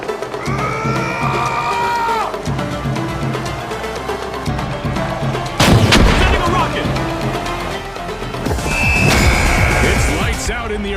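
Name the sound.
RPG fire in the video game The Finals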